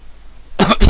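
A short burst of two harsh coughs, close and loud, after a near-silent start.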